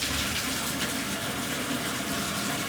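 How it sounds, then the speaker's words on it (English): Water gushes from a newly installed swivel bathtub faucet, a steady, full splashing rush into the tub that holds constant throughout, with no voices. "So we'll turn the water on."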